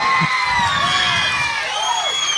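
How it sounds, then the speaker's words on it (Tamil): Cheering crowd with children shouting and whooping at a village stage show, a loud continuous wash of excited voices with a few shrill cries rising above. "நல்ல ஒரு கைதட்டல் கொடுத்துருங்க"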